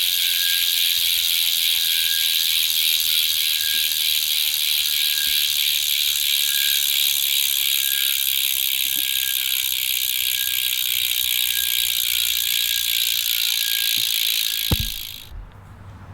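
A Walmart carbon bicycle wheelset freehub ratchets continuously as the wheel coasts, giving a loud, dense, high buzzing click that holds steady for about fifteen seconds before cutting off abruptly, with no talking.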